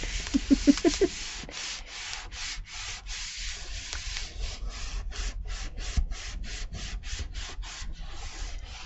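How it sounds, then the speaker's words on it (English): Glued paper piece rubbed down by hand in a papercraft project, a run of close, steady scratchy strokes in a regular rhythm with no talk. "Just giving it a rub."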